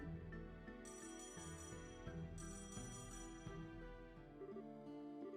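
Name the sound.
phone ringing on a call in a video game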